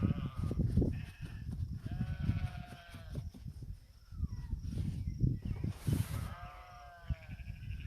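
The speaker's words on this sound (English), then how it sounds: "And you can hear the sheep in the background." Sheep bleat repeatedly nearby on a farm, several overlapping wavering calls over a steady low rumble of background noise.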